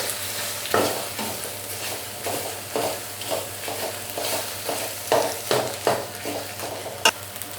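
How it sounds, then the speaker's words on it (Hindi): Mustard greens stirred into frying spices for sarson ka saag, with a steady sizzle beneath repeated scraping spoon strokes that come every half second or so, close by and with no speech. "अब अब साग को मसाले में अच्छे तरीके से मिक्स कर लेंगे और इसे कुछ देर के लिए पकाएंगे"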